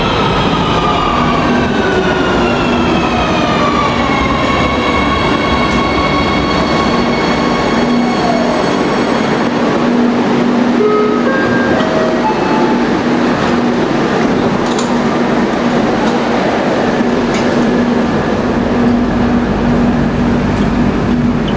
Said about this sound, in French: prendre le métro à Madrid, c'est assez charmant